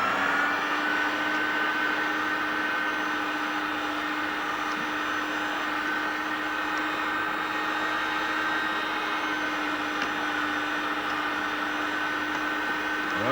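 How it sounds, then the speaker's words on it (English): A Philips kitchen mincer fitted with a fine blade grinds salmon, giving off a steady, even electric motor whine that runs unbroken and close throughout. "We'll turn on the machine and push it through"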